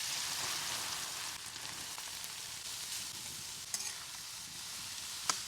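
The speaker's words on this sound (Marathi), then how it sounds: "आता हे किसलेलं गाजर टाकूया." Grated carrot fries in ghee over a wood-fired stove, a steady close sizzle with soft stirring scrapes and a couple of sharp clicks, no talking.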